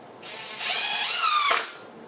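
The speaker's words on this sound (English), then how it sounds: "So this drill has a stop on it. So I'm not over tightening it." A power drill fitted with a depth stop drives a screw into a platen board, its motor whining up in pitch for over a second before stopping at the stop with a short clunk.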